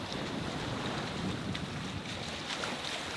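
A sailboat moves across the open ocean with steady wind rushing past and water washing along the hull, a continuous moderate broadband roar with no voices.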